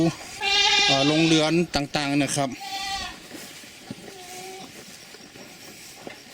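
Goats bleat in a series of loud, wavering calls early on at a goat and sheep farm in Lanna, followed by fainter bleats further off while someone talks.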